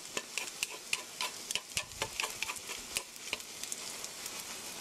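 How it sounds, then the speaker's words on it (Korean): A frying pan holding a cabbage and egg omelette is shaken over the heat, giving quiet, irregular clicks and taps against a faint, soft sizzle. "위에서 이렇게 프라이팬을 두르고 흔들어 주세요"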